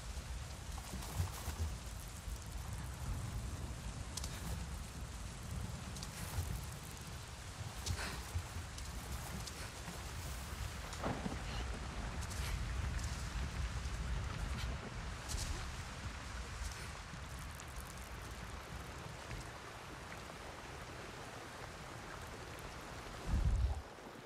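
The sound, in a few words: rain in video game Avatar Frontiers of Pandora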